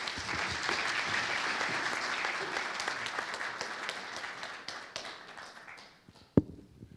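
Audience applause at a German-Hungarian business event, a broad steady wash of clapping from a crowd that fades out over several seconds, ending with a single sharp knock.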